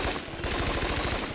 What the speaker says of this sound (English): how many shots does it take to kill a motherfucker, yo?